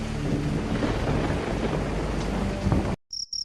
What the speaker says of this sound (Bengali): আকাশে বিদ্যুৎ চমকানোর আওয়াজে ঘুম ভেঙে গেল আমার